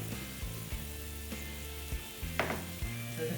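Garlic clove and a cube of butter sizzle in a pan as a basting mixture for a porterhouse calf steak, a steady crackle under a low hum with a few soft knocks.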